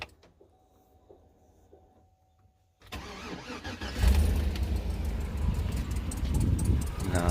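A Chevrolet Tahoe with a cammed engine cranks briefly after a quiet pause, then catches and roars to life, settling into a loud, rough, lopey idle close to the microphone; the exhaust leak may still be present.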